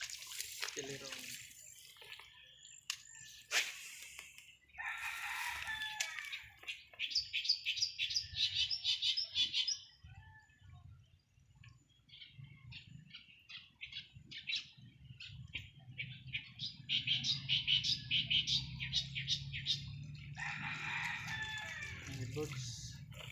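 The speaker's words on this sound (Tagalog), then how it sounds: "Birds." Birds chirp and trill in repeated bursts alongside roosters crowing, a mix of near and farther calls over a low background rumble, with some human voices faintly mixed in.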